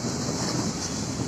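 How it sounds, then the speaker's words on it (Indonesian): Strong night wind at Muncar harbour roars in a steady, dense rush that buffets the microphone, loud and unbroken with no voices. "Anginnya kencang banget."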